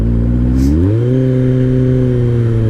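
A 2003 Kawasaki ZR7S motorcycle engine revs up steadily while riding on a cold first ride, the loud close drone rising in pitch then settling into a sustained even hum.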